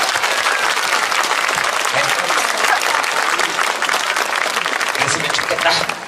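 A lecture crowd at Bonghae village applauds strongly, a loud, unbroken sheet of clapping from many hands lasting several seconds, with scattered voices mixed in near the end.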